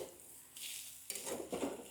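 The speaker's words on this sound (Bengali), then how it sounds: "হলুদ দিয়ে এটাকে একবার আরেকটু ভাজা ভাজা করব।" Potatoes with turmeric frying in a pan give a brief hiss of sizzling oil, with a couple of stirring scrapes and rustles in a short, close burst.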